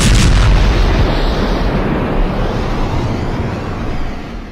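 An atomic bomb explosion sound effect: a huge, loud, deep rumbling blast that fills the whole clip and slowly fades, with no voices.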